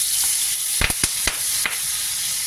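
Spices and kaffir lime leaves sizzle in hot oil, a steady bright hiss broken by several sharp pops and crackles clustered in the middle, close and loud with no voices.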